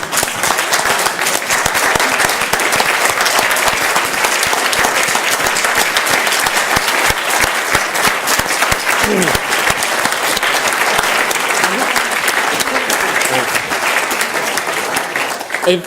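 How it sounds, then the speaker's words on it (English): Loud, dense audience applause at a closing address, sustained without a break from start to finish, with no one speaking over it. "give him another applause for getting the topic"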